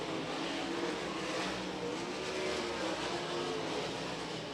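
Sprint race cars run side by side past the line, a dense continuous engine roar with slight swells in pitch, heard at a moderate distance without voices.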